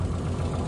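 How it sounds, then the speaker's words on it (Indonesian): A car engine running at idle during a pre-purchase check, giving a steady, even low rumble with a slight mechanical patter, heard alone for a brief moment. "Mesinnya gimana dari sini? Suaranya halus atau kasar?"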